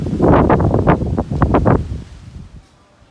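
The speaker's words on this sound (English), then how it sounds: "Real windy, but it's not gonna rain" Strong wind gusts buffet the microphone outdoors at a backyard pond construction site, with loud rumbling bursts that die down toward the end.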